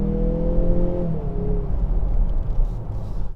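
A 2018 Mazda CX-9 GT with a 2.5-liter turbocharged Skyactiv engine pulls away in a steady, loud drone with a rising tone, then settles into rumbling road and tire noise.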